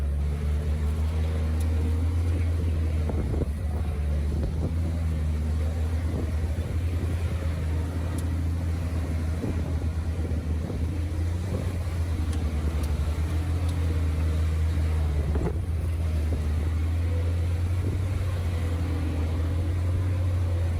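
A half track grinds along in low range, low gear on a rough desert hill road, its engine a steady droning rumble with constant low hum and mechanical whine, close and continuous throughout with no talking.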